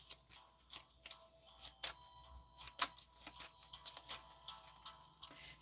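Tarot cards being shuffled by hand, a run of soft crisp riffles and taps in a quiet room, close and fairly faint, with no talking.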